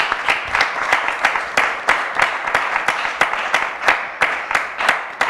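An audience claps at an event, the claps coming in a clear, fairly regular rhythm that sounds like a small group or one close clapper, loud and nearby.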